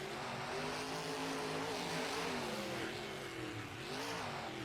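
Video game race cars in a qualifier race leave the starting line, their engines droning loudly and steadily with rising and falling pitch, dense and continuous with no talk over it.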